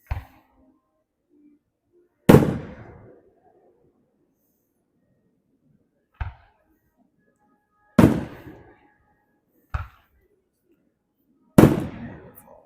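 Fireworks burst at a 4th of July celebration in Hurley, Missouri: about six separate loud booms spaced a few seconds apart, each with a short rumbling decay and quiet between them.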